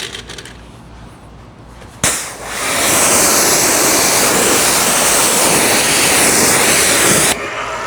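A hose sprays water over a filthy smoker's car being rinsed after washing; a sudden loud, steady hiss of spray starts abruptly and runs for several seconds before cutting back, with no talk.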